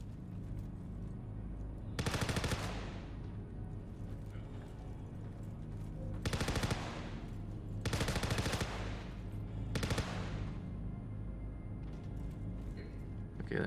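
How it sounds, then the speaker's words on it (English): Gunfire in Star Citizen, four separate bursts of rapid automatic shots spread across the stretch, loud and sharp against a constant low hum of game ambience. "Taking a little bit of fire down here."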